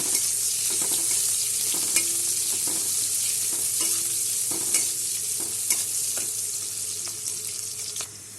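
Chopped onions sizzle steadily in a pan while a utensil scrapes and stirs them in repeated sharp knocks, close and fairly loud, with no talking.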